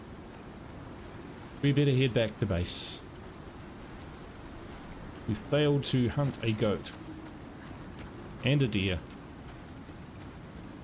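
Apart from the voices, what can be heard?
rain falling in the video game ICARUS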